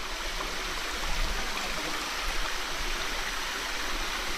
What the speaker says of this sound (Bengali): এটা এমনি জাস্ট নালা এখান থেকে পানি আসতেছে